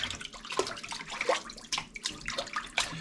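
Cold fresh water from a faucet runs over fish fillets in a sink, splashing unevenly in close bursts and trickles, fairly quiet, with no talk.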